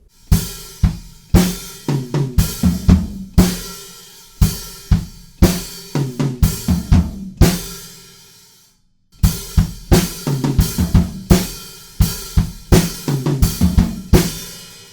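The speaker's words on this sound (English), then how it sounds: "now I'm going to add the bass drum" A drum kit plays a steady groove with punchy bass drum hits and crisp snare and cymbal strokes, close and loud, briefly pausing midway before resuming.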